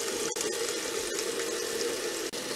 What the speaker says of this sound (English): you can start taking the brush you want to wash and spin around